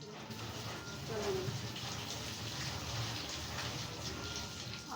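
Water poured over boiled potatoes in a basket, a continuous broad gushing and splashing that holds steady and fairly loud from start to finish without speech.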